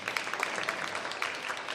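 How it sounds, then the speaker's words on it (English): A school jazz band audience applauds its seniors at a district honor jazz band event, a steady, fairly faint wash of many hands clapping together for the full stretch. "Let's give them a round of applause."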